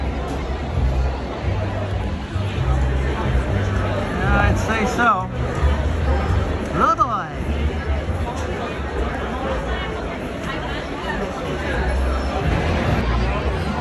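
Crowd chatter and hubbub fill Stelzenplatz, the stilt place at Wurstfest, near a long beer line, a steady dense babble of many voices, with a person speaking briefly over it.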